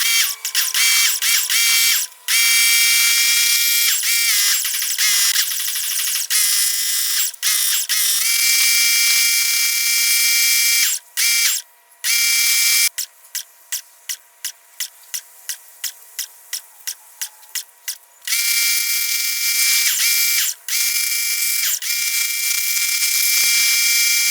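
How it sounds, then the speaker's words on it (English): A loud, steady high-pitched spray hiss with a whining pump tone as a pressure washer cleans a Honda Insight engine, briefly breaking into rapid stuttering bursts midway before resuming. "I'm going to just hit it with the power washer"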